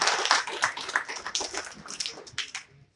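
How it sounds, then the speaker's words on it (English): Scattered audience clapping at a public conversation event for the Selma Jubilee 2020, loose and uneven hand claps for a few seconds that fade out near the end. "Give her a round of applause."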